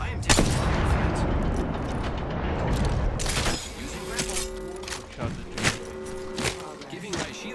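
Rifle fire in Apex Legends, loud rapid bursts of shots cracking in clusters, denser at first then sparser, with a voice talking over the gunfire.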